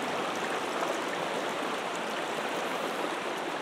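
A river rushes loudly through branches at close range, making a steady broadband roar of flowing water with no pauses and no voices.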